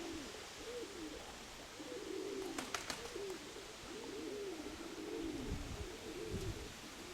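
Pigeons cooing in soft, repeated rolling calls, close by, with a steady outdoor background hum.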